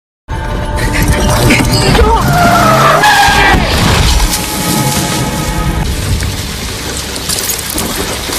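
A car skids and crashes in a film scene, with loud tire screeching and impact noise over a steady rain-like wash that continues for several seconds.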